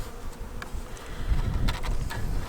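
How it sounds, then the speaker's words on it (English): Honeybees hum at a hive in a steady, close, dense buzz, with individual bees droning past now and then and no talking. "Alright, so you got bees up in here."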